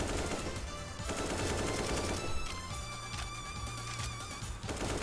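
Rapid gunfire in a video game, bursts of automatic shots and cracks crowding together loudly and continuously over a dense game soundtrack, with no pause.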